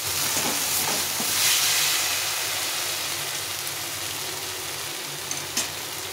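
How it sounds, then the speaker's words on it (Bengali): Spice paste for crab curry fries in hot oil with a steady, close sizzling hiss, occasional faint clinks of stirring rising above it. "মশলা থেকে তেল ছেড়ে দিয়েছে, এভাবে ভালো করে কষিয়ে নিতে হবে"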